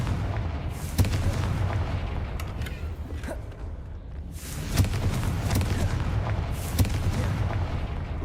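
Confringo fire spell blasts in the Hogwarts Legacy video game, heavy booming explosions landing at intervals over a dense rumbling roar of battle effects.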